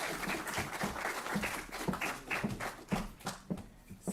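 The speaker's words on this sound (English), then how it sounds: "Round of applause, please, Dr. Fernando." An audience at an honorary fellowship ceremony claps in a loose, rhythmic pattern. The individual claps are distinct and fairly close, and the sound eases off toward the end.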